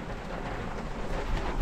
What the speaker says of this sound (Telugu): వర్షం మాత్రం గట్టిగానే పడుతుంది.